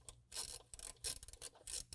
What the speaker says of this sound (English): Loosen that up with a 7mm just like we did the others.